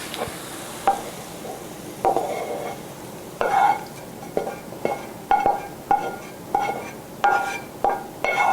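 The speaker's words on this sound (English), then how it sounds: "And I'll stir that in." Spinach being stirred into marinara sauce in a pot: a steady series of scraping spoon strokes every second or so, each with a soft wet sizzle, close and clear with no talking.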